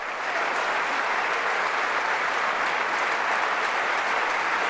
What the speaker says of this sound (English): Also sitting next to George Santos, who's clapping very gaily.